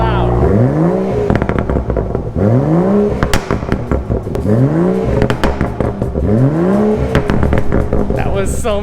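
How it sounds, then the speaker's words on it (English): A car engine is cold-started and revved inside a shop, very loud and close, with repeated rising rev sweeps roughly every two seconds over a rough, crackling idle. "let's go for a cold start inside the shop"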